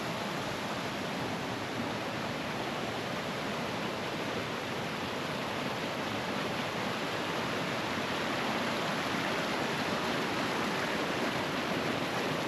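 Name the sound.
waterfall at Disappointment Falls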